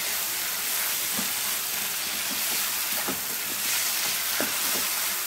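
Steady hissing sizzle of bajji chilli egg gravy cooking in a pan, with soft scattered scrapes and clicks of stirring and mixing throughout, no talking.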